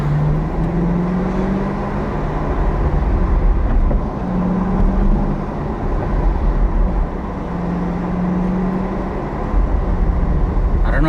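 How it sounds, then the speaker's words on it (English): A Chevrolet C8 Corvette's exhaust rumbles steadily from inside the cabin while driving in manual mode with a window down, a continuous low drone with rising and falling engine tones. "Just listen to this exhaust."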